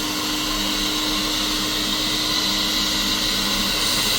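A Cafemasy 400-gram coffee roaster's fan, apparently at maximum speed, blows strong hot air in a steady, close, unbroken whoosh with no talking.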